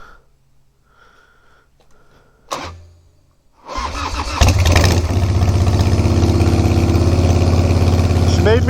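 A Harley FXR motorcycle engine cold-starts after two throttle pumps: a quiet stretch with a faint hum and a brief clunk, then the starter cranks and the engine catches into a loud, steady, lumpy idle close by.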